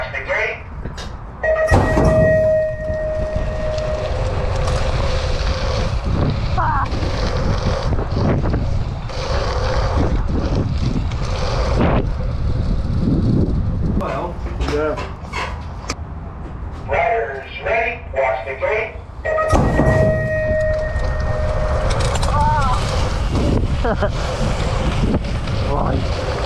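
Strong wind buffeting the microphone at a BMX track, loud gusty rumble throughout with intermittent tonal squeals, while people talk over it.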